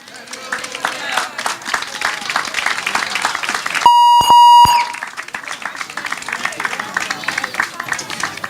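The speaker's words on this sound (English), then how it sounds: "give them a round of applause" A crowd at an outdoor Christmas tree lighting ceremony applauds the children, with sustained close clapping broken midway by a loud electronic beep tone lasting under a second before the clapping carries on.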